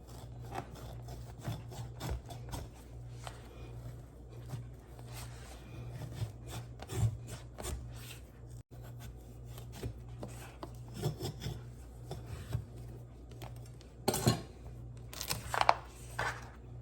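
A knife cuts open a pumpkin, making quiet, close rasping and sawing strokes through the tough flesh with occasional sharper cracks as the blade works through, against a low steady background hum.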